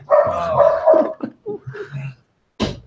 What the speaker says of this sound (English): Before you guys start just hearing my dogs bark and my wife yell.